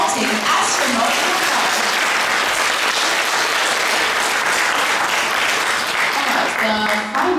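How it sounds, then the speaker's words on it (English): An audience at a children's graduation performance applauds steadily, a dense, loud wash of clapping that holds throughout without a break. "A round of applause for the alien spotting astronaut."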